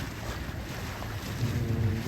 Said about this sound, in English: we're motor sailing because the wind is so light we just get bounced around